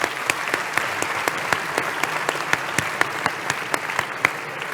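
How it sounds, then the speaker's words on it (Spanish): An audience claps at a round-table panel during a business forum in Aragón, steady dense applause with a few sharper individual claps standing out, filling the room at a fairly even level with no talk. "Un aplauso, por supuesto."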